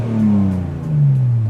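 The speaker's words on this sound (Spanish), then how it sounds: "Pero el sonido que te da el V6." A Mazda MX6 V6 on its original exhaust revs up steadily, a loud, close engine note climbing and holding through the whole moment without talk.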